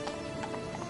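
Roach, the horse in The Witcher 3, trots in a steady run of soft hoof clip-clops over a constant ambient game backdrop, moderately close and with no talking.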